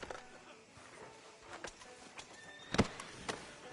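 A horse walks in a PS4 video game with soft, scattered hoof clops at a low level, and one sharper, louder hit near the end.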